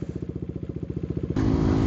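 A 2024 KTM Duke 390 Gen 3 motorcycle thumps along at a steady, rapid pulse, then the engine note opens into a denser, louder roar as the bike accelerates during the ride.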